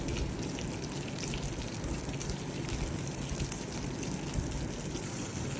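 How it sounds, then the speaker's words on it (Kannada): Curry leaves spluttering in hot oil while cooking nati-style chicken bassaru, a dense continuous crackle and sizzle at steady loudness throughout, close and alone with no voices. "ಕರಿಬೇವಿನ ಸೊಪ್ಪು ಹಾಕಿ ಚಟ್ಪಟ್ ಅಂದಾಗ"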